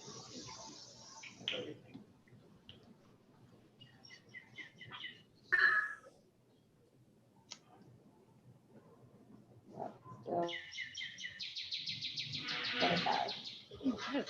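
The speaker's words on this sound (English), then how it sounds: "somebody's got a bird in there" A bird chirping in a room during an online annual meeting: scattered faint tweets early on, then a livelier run of rapid, repeated chirps near the end, with no one talking over it.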